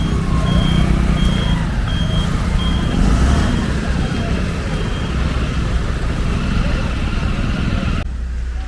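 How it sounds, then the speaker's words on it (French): A rental car arrives at a Nepal–India border area while repeated reversing beeps sound over a loud engine rumble and busy road noise, with people talking nearby. "Ah voilà la voiture"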